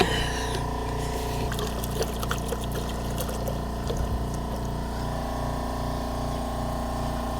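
Coolant trickling and gurgling through a car heater core hose while the system is flushed, a steady close liquid flow with a faint motor hum beneath and occasional small splashes.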